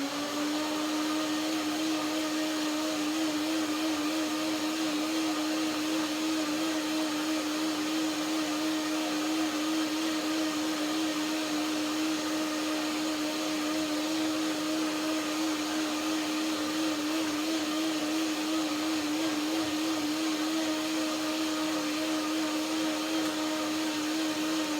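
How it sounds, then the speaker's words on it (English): A steady kitchen blender motor whine drones on for the whole stretch with a constant pitched hum, blending raspberries, blueberries, mangoes and macadamia cream, no voices. "Blender dance one more time."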